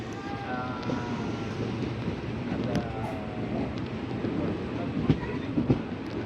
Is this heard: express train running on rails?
yes